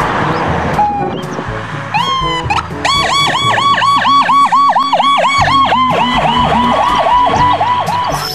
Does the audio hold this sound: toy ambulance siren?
yes